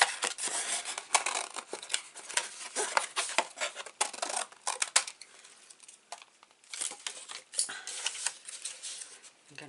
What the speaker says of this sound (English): So I'm going to get my big scissors.